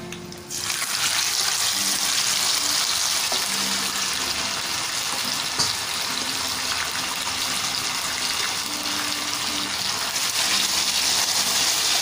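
Pork chop frying in a pan gives a steady, close, loud sizzle that runs unbroken throughout, with no voices over it.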